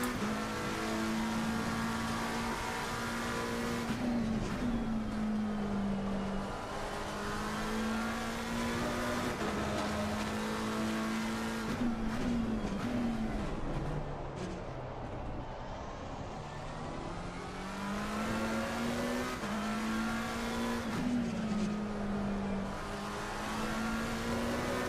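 Race car engine in Assetto Corsa Competizione, running with traction control at TC2 during a hot lap, holds a loud, steady drone that climbs and drops through gear changes and revs, with no talk over it.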